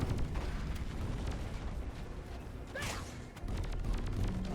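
Embedded detonators in Deep Rock Galactic go off as faint, muffled pops and crackles beneath mechanical clatter. One sharper burst stands out near the middle, and a rumble swells toward the end.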